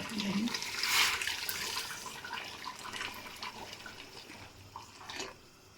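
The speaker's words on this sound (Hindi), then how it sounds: "इस वक्त हम पानी शामिल करेंगे" Hot water poured into a cooking pot of mutton paya curry, a steady splashing pour that is loudest early and tapers off over several seconds, close by with faint kitchen background.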